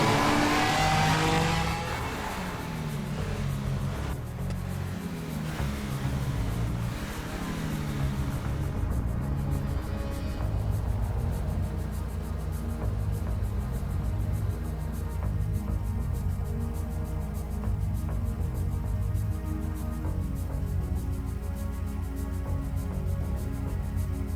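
A car driven fast in GTA V, its engine a steady loud roar with revving swells and passing whooshes, continuous throughout with no voices.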